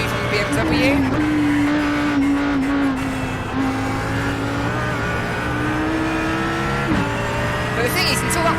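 GT3 race cars lap Watkins Glen in the iRacing simulator, engines droning loud and steady with rising and falling pitch as they shift, plus brief tire squeal, under continuous commentary.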